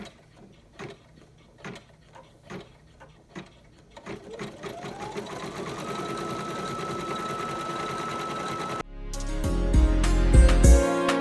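An embroidery machine stitches an in-the-hoop bag, first with evenly spaced rhythmic stitching thumps, then a continuous motor whir with a rising tone, and finally a louder, denser mechanical run near the end.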